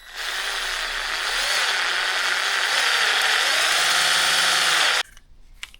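A power drill bores a hole for a rubber grommet during an LED bulb upgrade on a Vauxhall Astra GTC VXR, a loud continuous whirring grind for about five seconds that stops abruptly.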